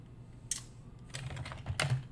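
A git commit command typed on a computer keyboard, with a few sharp key taps followed by quick bursts of clicking over a low steady hum.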